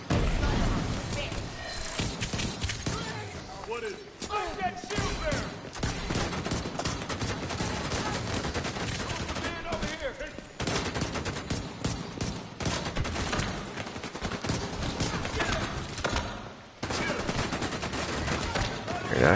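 Gunfire in The Division 2 on PS5, with a sniper rifle in the mix: dense, near-constant bursts of shots over roughly twenty seconds, loud and busy, with someone talking over much of it.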